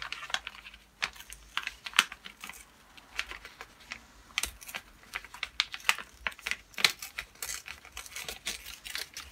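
A vintage paper sewing pattern being handled and torn: close, irregular crackles, crinkles and sharp tearing ticks in uneven bursts, fairly quiet, with no talking.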